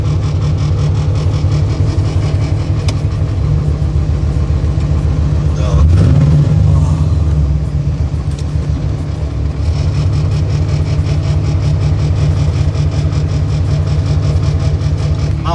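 A car engine roars loudly and continuously close by, revving up in a brief surge midway before settling back to a heavy steady drone.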